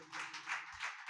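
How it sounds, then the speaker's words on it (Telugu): Congregation clapping together during a Sunday church service, a broad wash of hand claps that swells and fades over about a second, fairly faint and with no voice over it. "చప్పట్లు కొట్టండి."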